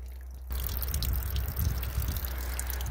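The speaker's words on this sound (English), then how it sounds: "The water that's draining there is what's coming out of the faucets when I open them up" Tap water from a Coachman RV's 100-gallon tank drains out of opened faucets and splashes onto the ground outdoors, a steady close splatter starting abruptly after a quiet half second and running continuously.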